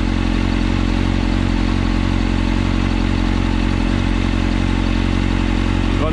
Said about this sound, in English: As you can see, the fan has now kicked in, so the engine is up to temperature.